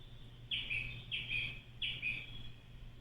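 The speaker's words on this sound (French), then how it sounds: "Outre le son des vagues, on va avoir le chant des oiseaux." Three bright electronic birdsong phrases repeat at an even pace, chirpy and trilling, over a soft low hum, played from a sound diffuser's small speaker close by.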